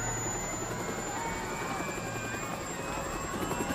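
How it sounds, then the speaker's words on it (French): Steady, continuous rotor and engine roar of a helicopter, constant in level without pause. "C'est le dernier hélicoptère!"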